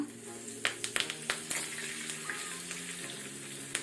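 Curry leaves with mustard seeds, asafoetida and dried red chillies spit and crackle in hot oil for a tempering, quiet sputters and sharp pops heard close under a speaking voice.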